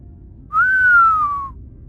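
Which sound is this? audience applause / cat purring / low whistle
low whistle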